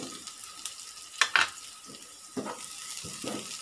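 Butter melting in a hot pan while making sopas, giving a soft, steady sizzle with a few brief louder crackles and spits, close up and with no talk over it.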